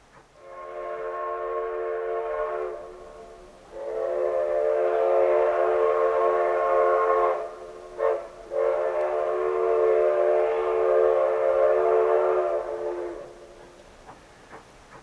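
A train whistle sounds two long, loud blasts with a short gap between them, steady and close, with no talking.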